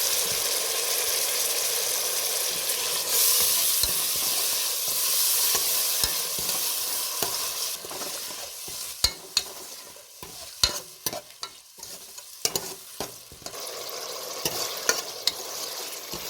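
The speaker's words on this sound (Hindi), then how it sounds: "अब मैंने इसमें टमाटर ऐड किए हैं और उसके बाद फिर से फ्राई करना है" Tomato paste fries in a pan for a Hindi-style egg biryani masala, first as a dense continuous sizzle, then as thinner sputtering with sharp clacks and scrapes of a spoon stirring against the metal.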